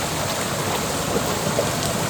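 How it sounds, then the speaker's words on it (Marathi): A small waterfall spills into a stream across a forest trail in dense jungle, giving a steady close rush and splash of flowing water with no pauses and no voices. "ही पाणी वाट आहे पाणी रस्ता आहे वाव मिनी धबधबा"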